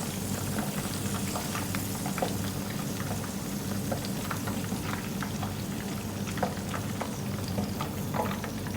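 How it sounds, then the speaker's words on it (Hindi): Chicken deep-frying in hot oil gives a dense, continuous crackling sizzle with scattered sharper pops, steady in loudness and close by, with no talking. "इसी तरह मैं पलट के इसको फ्राई कर लूँगी"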